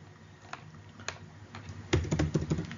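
Code being typed on a computer keyboard: a few scattered keystrokes at first, then a quicker close run of clacking keys, with no talk.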